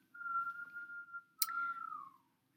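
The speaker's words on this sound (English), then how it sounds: "my husband's whistling in the background" A man whistles a short tune in a room, a single clear sustained note that breaks, then resumes and slides downward, faint and somewhat distant, with no talk.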